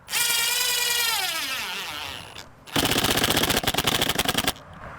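A power driver sinks a screw into PVC window trim: a rising whine winds down over two seconds, then a brief pause, followed by a loud, rapid ratcheting burst of clutch clicks, up close.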